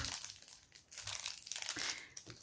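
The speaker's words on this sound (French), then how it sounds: "J'arrête de toucher ce papier." Paper wrapper of a praline crinkles close up in quick, uneven bursts of crackling rustle, with no voices.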